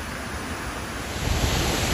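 Rushing water of Spring Creek Falls near Port Douglas, a steady broadband roar of falling water on a rocky creek that swells slightly louder partway through, heard alone with no voices.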